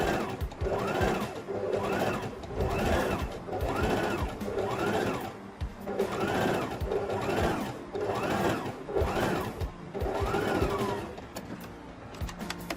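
Sewing machine running a regular straight stay stitch along a skirt waistline, in rhythmic bursts of whirring stitching about a second long with short pauses between, close and clear with no talk.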